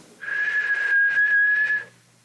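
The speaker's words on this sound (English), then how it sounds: "It sounded like somebody trying to whistle." A single steady whistled note held for almost two seconds, clear and fairly close, with no talking.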